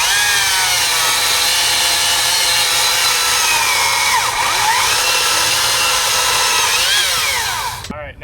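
STIHL chainsaw fitted with a Hexa chain cutting through wood, a loud, sustained close-up engine whine with pitch shifting under load, cutting off abruptly at the end.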